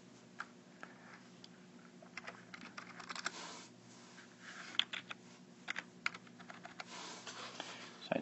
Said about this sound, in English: So I just basically need to type that in.